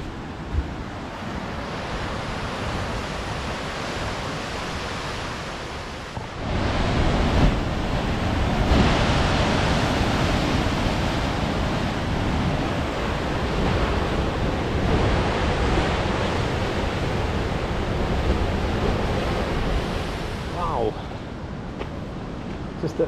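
Ocean waves crash below the Fossil Bay lookout in Tasmania, making a continuous broadband roar mixed with wind buffeting the microphone. The surf swells noticeably louder partway through and stays heavy to the end.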